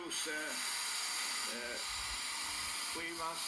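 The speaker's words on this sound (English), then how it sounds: "use this compressed air, otherwise we will have damage on the contactors" Compressed air blows steadily onto contactors at the SAQ Grimeton transmitter in Sweden, a constant close hiss with voices talking intermittently underneath.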